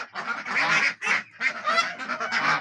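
Loud, raucous honking calls from a group of ducks following a man in Sungurlu, Çorum, Turkey, overlapping in rapid bursts with brief pauses, close by.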